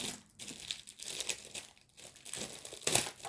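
A parcel's crinkly plastic wrapping is pulled open up close, giving bursts of crackling and crumpling with brief pauses between handling movements, and no speech.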